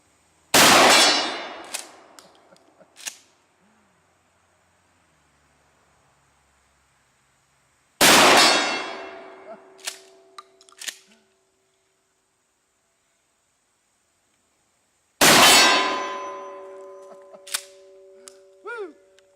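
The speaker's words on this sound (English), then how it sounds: "Knocks the heck out of the gong." Three loud shotgun blasts from a Mossberg 500 at roughly seven-second intervals, each followed a moment later by a sharp metallic clang and a ringing tone as the shot strikes a steel gong downrange, with silence between.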